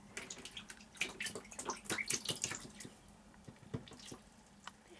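Ducks splash water near a running shower, making a busy stretch of close, irregular drips and splatters. The activity peaks in the middle and then thins to scattered drops, with no talking.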